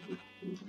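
Sheep bleating in a Yu-Gi-Oh anime episode, two short wavering bleats in quick succession, fairly close and moderately loud, with no talk over them.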